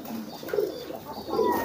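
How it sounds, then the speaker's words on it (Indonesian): Untrained homing pigeons coo close by in a short pair of soft, low, throaty calls over light background noise. "Jadi yang namanya merpati bahan itu kayak gini tuh"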